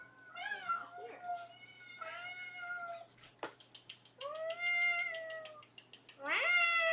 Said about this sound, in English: You hear her, you guys? She's meow, meow.